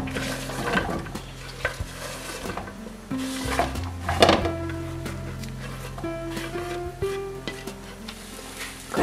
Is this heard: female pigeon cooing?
no